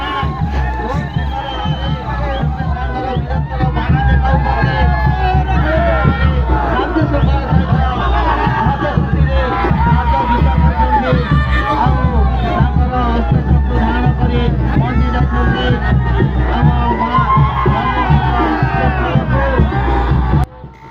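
A large, dense crowd at the Toki Parba tribal festival in Kalahandi: a loud, steady roar of voices and cheering with a low drum-like thumping underneath, sustained throughout.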